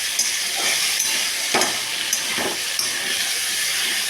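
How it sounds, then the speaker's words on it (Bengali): Okra frying in a pan with salt, turmeric and chilli powder, giving a loud, steady close-up sizzle with a few soft stirring knocks spaced through it. "নুন হলুদ আর লঙ্কার গুঁড়ো দিয়ে ভেন্ডিটা ভেজে নিচ্ছি।"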